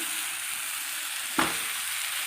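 Tamil-style pepper and coriander-leaf country chicken gravy stirred in a hot pan, a steady loud sizzle with one sharp scrape of the spoon partway through.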